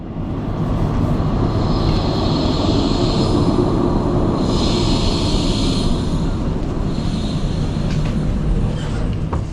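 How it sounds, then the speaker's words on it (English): A modern tram rolls into Brunnsparken stop in Gothenburg with a heavy, continuous rumble and faint high-pitched brake squeals rising and fading as it slows. "we can take a look at the arrival of my first tram here at the most central stop"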